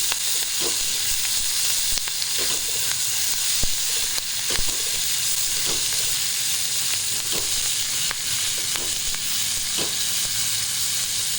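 Corn kernels and chopped spring onions fry in a hot pan with a steady, close sizzle and hiss, broken by occasional stirring clicks and scrapes, no voices present.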